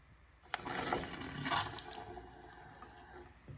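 Water runs steadily from a two-handle Delta bathroom faucet into the sink, with a sharp gush as the flow starts, then a constant close splashing rush that lasts to the end.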